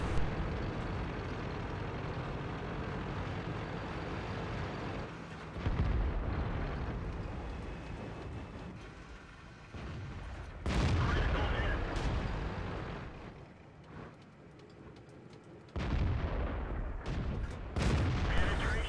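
Heavy tank cannon shots boom in a tank battle video game on a swamp map, several loud blasts with rumbling tails spaced across the stretch, over a constant engine-like drone.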